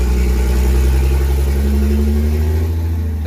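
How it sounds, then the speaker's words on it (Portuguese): A truck's engine labors loudly while climbing a steep grade on the Presidente Tancredo Neves highway in Franco da Rocha, a steady low drone with a slowly shifting pitch, close and continuous. "Dá até medo um caminhão subindo essa subida e não ter força."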